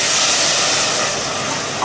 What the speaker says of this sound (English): stick some white wine in